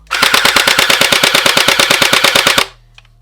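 A loud, rapid full-auto burst from a YaGee DGR BO9 gel blaster, steady mechanical clatter for over two seconds before stopping abruptly.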